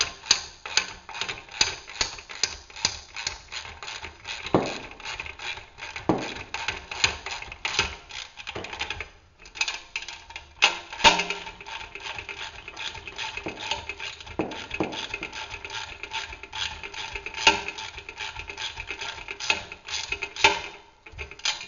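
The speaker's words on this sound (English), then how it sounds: "In this case I'm using a ratchet just to make the process a little bit faster." A ratchet tightening bolts while a magnetic sweeper is assembled, with rapid clicking in repeated bursts and brief pauses between turns, close and fairly loud with no talking.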